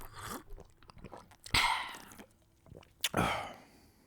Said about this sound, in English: and then taking a swig.